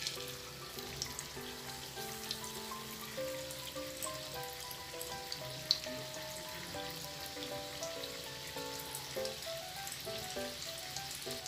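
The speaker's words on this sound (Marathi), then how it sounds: "फिशला कोटिंग झालेलं आहे, हे आता फ्राय करून घेऊ" Katla fish frying in oil on a hot tawa over medium heat, a steady dense sizzle and crackle running throughout at moderate level, alone without talk.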